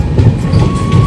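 The Howrah–Purulia Express rolls along during rain, giving a loud, close, steady rumble from inside the train with a faint rhythmic rattle over the brief stretch.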